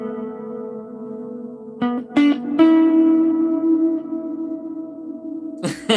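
Guitar notes played through the hall reverb effect on a Boss RC-600 looper, sustained tones ringing out with a long washy tail after a few sharp plucked attacks, fairly loud and with no talking.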